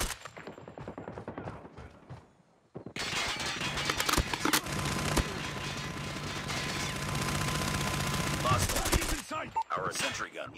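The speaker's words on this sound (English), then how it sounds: "Sentry gun deployed." A deployed sentry gun in Call of Duty Mobile rattles off a long, sustained stream of rapid automatic fire at close range, bracketed by shorter bursts and scattered shots before and after.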